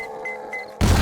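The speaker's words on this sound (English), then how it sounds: "Boom! So that's about as small as I can get their explosions so far." A loud, broadband burst from an explosion in the zombie survival game 7 Days to Die hits near the end, following a quieter stretch of game ambience with faint tonal chimes.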